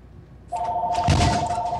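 A telephone rings steadily in a Survival Games space-trap map, a clear, sustained electronic bell tone that starts abruptly and continues, with a thud of game noise partway through.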